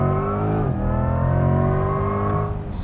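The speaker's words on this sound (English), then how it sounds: "Yuri, just floor it again for me, just one more time." A 2024 Corvette E-Ray accelerates hard at full throttle, its engine note rising steadily in pitch through the gears with a brief shift, loud and close inside the cabin, with no talk.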